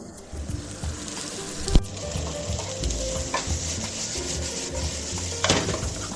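An onion fries in a pan for Japanese ginger pork, a steady close sizzle with scraping stir strokes and a few sharp utensil knocks.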